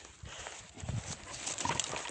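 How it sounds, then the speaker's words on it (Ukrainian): A mare moves along a forest path by a lake, her hooves giving soft, irregular clip-clops at a moderate distance amid outdoor ambience, with no speech over them. "яка кобилочка моя"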